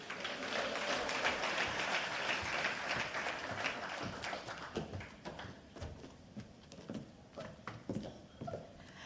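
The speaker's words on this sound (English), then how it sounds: "Another round of applause." Applause from the audience at a women's recognition awards ceremony: a full clatter of clapping that thins into scattered, uneven claps toward the end, heard somewhat distantly.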